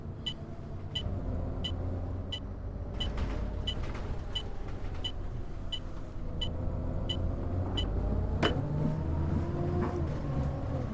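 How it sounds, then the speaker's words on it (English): Simulated engine of a Citybus 400R (EcoLife) bus in OMSI 2, droning steadily and rising in pitch as it revs, with a ticking indicator clicking at an even pace throughout; no talking. "is the sounds of this engine and the way it reacts when I rev"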